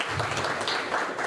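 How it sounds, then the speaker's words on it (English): An audience at an international conference on pedestrian spaces applauds as panelists come up to the dais. The clapping is a steady, moderate wash of many hands that lasts briefly and has no talk over it. "Can we have a round of applause to welcome them?"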